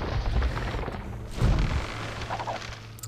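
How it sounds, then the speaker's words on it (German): Cannon fire in the strategy game Age of Empires II, with a muffled boom swelling about midway through a busy battle soundscape of low rumbles and scattered impacts. "Das klingt absolut nach Kanonen."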